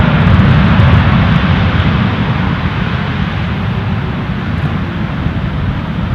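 WestJet Dreamliner airliner at Amsterdam Schiphol airport, a loud steady jet engine roar with deep rumble, continuous and close throughout, no talk.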